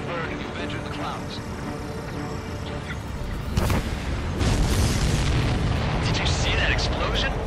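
Enemy supply ship exploding in the video game Ace Combat 7, a deep rumbling boom swelling amid continuous jet and battle noise, loud and dense with voices talking over it.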